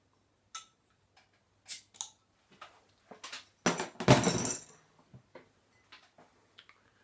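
A bottle of 13 Apples cider, a 13% strength brew, is cracked open: scattered small clicks and taps lead into a louder burst of fizzing hiss around the middle, then more light clicks. No voices.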